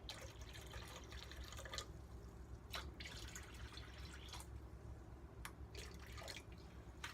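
Water trickles and drips into a pot holding boiled eggs, a soft, faint, irregular splashing with a few brighter drops, quiet and close without speech.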